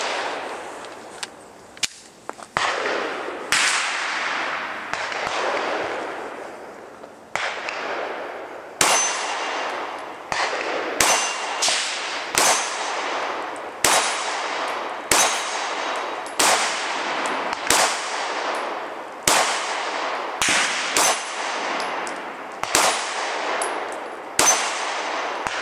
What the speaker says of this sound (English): Gonna be shooting an 8-inch round AR-500 steel target at 15 yards.